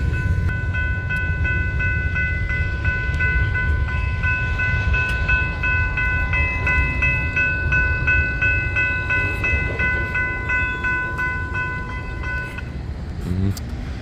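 Freight train rolling through a Washington Street railroad crossing in West Chicago, Illinois, its cars rumbling and clattering steadily while the crossing bells ring continuously until the end of the train passes and the ringing stops.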